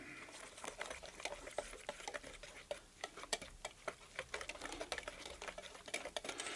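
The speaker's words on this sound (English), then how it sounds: "Let me whisk all this together." Chex Mix seasoning being whisked in a bowl, a fast, continuous run of light ticking and clinking strokes, soft and close, with no talking.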